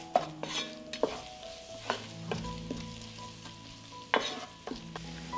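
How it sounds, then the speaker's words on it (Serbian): Sweet ground red paprika fries briefly in a pan, a soft close sizzle under several sharp clinks and scrapes of a spoon stirring against the metal, fairly quiet with no voices. "dodat ću 2 kašičice crvene slatke mlevene paprike i propržit ću to zajedno bukvalno 20 sekundi"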